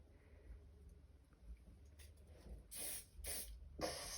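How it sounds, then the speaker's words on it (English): Hairspray from an aerosol can is spritzed onto flyaway hair in several short hissing bursts, close and soft against a faint background hum. "give them a little spray"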